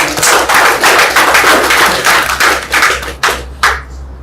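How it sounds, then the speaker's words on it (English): Audience applause for a prisoner-support foundation's release ceremony for 16 inmates in The Gambia: dense, loud clapping from a crowd, sustained for several seconds, then breaking into a few scattered final claps before fading. "Can you give a round of applause?"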